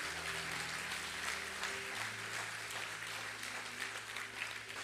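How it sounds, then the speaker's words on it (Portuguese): A church congregation applauds in a steady, continuous wash of clapping, faint and distant, with a low hum underneath and no voices over it. "Dê uma salva de palmas."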